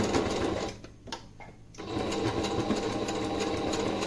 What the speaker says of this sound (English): And I'm just sewing over top, securing it a little more.